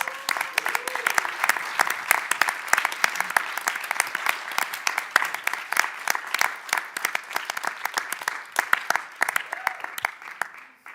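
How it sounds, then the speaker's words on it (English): Steady, enthusiastic applause from a crowd, continuous clapping that holds for the whole stretch with no talking over it. "So big applause."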